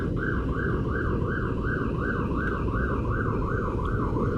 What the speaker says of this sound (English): Oh, sirens are here.